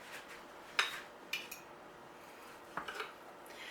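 A knife clinks and taps against a dish while food is cut for a golden chicken casserole, giving a few sharp metallic knocks spaced apart, close by and fairly quiet, with no talking.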